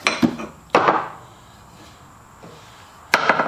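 A claw hammer is picked up and handled in a home workshop, giving a few sharp knocks and clinks of metal and wood, close and moderately loud, separated by quiet pauses.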